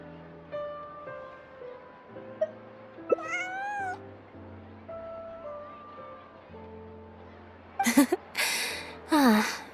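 A cat meowing in the video game Genshin Impact, several plaintive meows and a longer drawn-out cry rising over soft background music, with a voice also heard.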